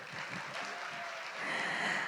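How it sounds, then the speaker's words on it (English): Audience applause at a youth summit closing ceremony, a dense steady patter of many hands clapping for about two seconds, moderately loud and uninterrupted. "give applause for us"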